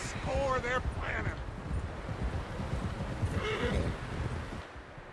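A horse in Red Dead Redemption 2 gives two sharp whinnies over a steady patter of hooves, with a background rumble and some talk mixed in.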